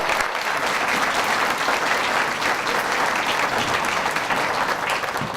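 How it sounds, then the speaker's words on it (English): An audience at an employee-of-the-year celebration applauds a committee with dense, even clapping that holds steady and loud for several seconds without letting up. "If you can give them a round of applause."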